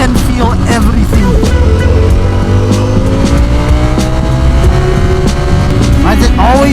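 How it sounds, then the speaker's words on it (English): Busy city traffic around a rider on a Ducati Panigale V4 motorcycle, with loud engine drone, passing cars and rising revs, close and continuous, and someone talking over it. "Why is it always traffic right here, bro?"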